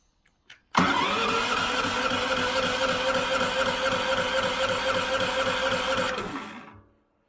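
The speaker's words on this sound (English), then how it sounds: "So now we know the engine turns over." A Gorilla GP8000IE generator engine is cranked over by its electric starter, a loud steady mechanical whirring with rapid rhythmic pulsing that runs for about five seconds, then stops and winds down to silence.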